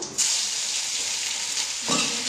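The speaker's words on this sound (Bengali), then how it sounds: "তেল গরম হয়ে গেছে, আমি আদাটা দিয়ে দেবো।" Ground ginger drops into hot oil already holding dried red chillies and bursts into a loud, close, hissing fry. The sizzle holds steady and swells again near the end.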